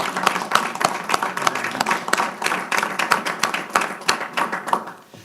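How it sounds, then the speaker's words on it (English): An audience at a mayor's public announcement applauds, many hands clapping briskly and close, a dense patter of sharp claps sustained for several seconds before thinning out at the end. "would you join me in giving them a round of applause for agreeing to do this?"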